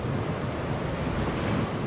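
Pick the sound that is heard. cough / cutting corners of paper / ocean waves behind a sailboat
ocean waves behind a sailboat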